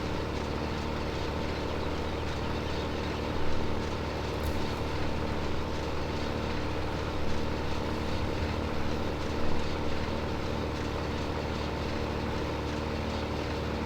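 A baler at work in Farming Simulator 2015, a steady droning machine hum running evenly throughout with a few small bumps, no talk over it.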